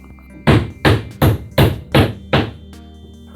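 Six sharp hammer strikes drive 1.5 inch roofing nails into OSB sheathing on a tiny house wall, each blow a loud, close thwack at a steady pace, alone with no talk.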